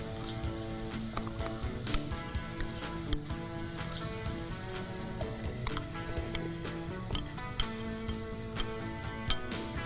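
Tomato puree goes into a hot, sizzling tempering in a pan, making a steady close frying hiss broken by frequent sharp crackles and pops throughout.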